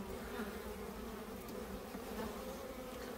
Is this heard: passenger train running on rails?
no